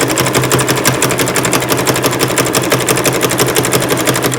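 A sewing machine runs steadily at close range while sewing a zigzag stitch, its fast, even mechanical clatter going on without a break and with no voices over it.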